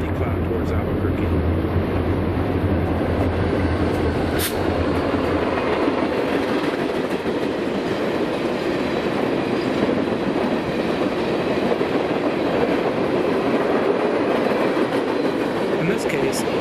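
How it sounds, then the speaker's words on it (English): A short freight train rounds a corner on its way south toward Albuquerque, a loud, steady rumble of wheels and cars rolling past close by, with a faint horn-like tone early on. "a short freight train rounds the corner and heads south up Dusty Cloud towards Albuquerque"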